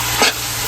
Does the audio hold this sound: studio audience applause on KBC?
no